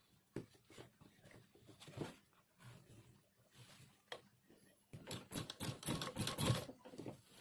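A sewing machine stitches an elastic belt in short bursts, quiet at first and building to a louder, denser run of rapid stitching near the end, with brief pauses between passes.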